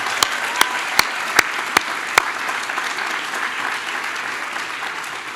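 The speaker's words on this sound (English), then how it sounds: "Let's give her a big round of applause" Crowd applause at a seminary commencement ceremony honoring the chancellor, steady clapping from a large audience, with a few sharp, close individual claps standing out early on.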